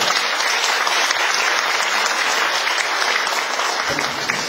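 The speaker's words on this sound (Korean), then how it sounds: "박수 한번 주세요" Audience applause at an author's book lecture in a hall, a dense, steady, fairly loud stream of many clapping hands that continues alone without pause.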